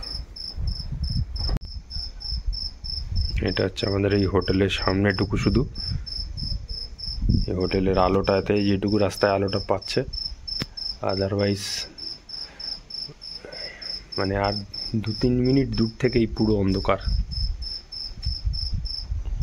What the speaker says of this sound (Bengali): আর অ্যাজ ইউজুয়াল ঝিঝি ডাকছে।